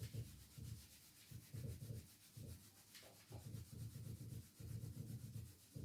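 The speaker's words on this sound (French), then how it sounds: "On ralentit, on frotte les genoux et on descend jusqu'aux chevilles" Hands rub slowly up and down the knees and legs toward the ankles during a Do-In self-massage, producing soft, close, rhythmic friction strokes in repeated back-and-forth bursts.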